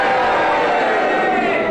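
A studio audience at a panel game cheers and boos at once, a loud, dense crowd roar filling a brief moment without a break.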